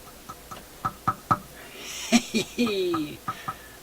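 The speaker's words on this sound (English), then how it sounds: "Tap that mic." A microphone plugged into a Traynor 8/201 analog mixer is tapped repeatedly and heard through a home stereo speaker: a run of short, sharp thumps in an irregular rhythm, with a faint hum underneath.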